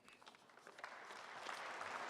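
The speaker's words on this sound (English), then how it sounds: "Keep that round of applause going." A faint round of applause at a Saskatchewan municipal awards ceremony, beginning as scattered claps and swelling into a fuller, steady patter of many hands.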